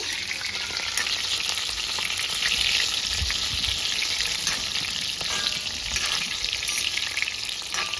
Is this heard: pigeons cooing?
no